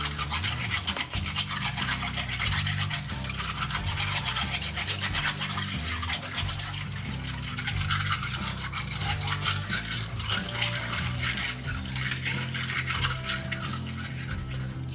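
Tap water runs steadily over clam shells in a kitchen sink for the whole stretch, a close, continuous splashing hiss with slight shifts as the shells are rubbed and turned.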